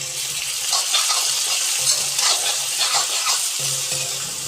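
Onion, ginger and garlic sautéing in a pan, a loud continuous sizzle with rhythmic scraping stirs throughout, close up and without speech.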